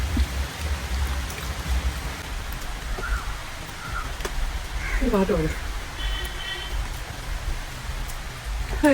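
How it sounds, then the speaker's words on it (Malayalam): Heavy rain pours steadily in a steady wash of patter and splashes, with a few faint distant sounds over it and no clear talk. "മഴ നല്ല മഴ പെയ്യുന്നു"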